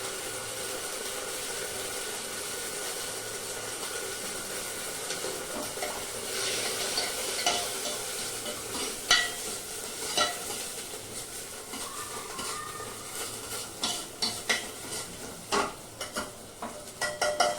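Ginger garlic paste and vegetables frying in a home kitchen pan, stirred with a utensil: a steady soft sizzle runs throughout, with scraping and clinking stir strokes growing more frequent and louder toward the end, no talking.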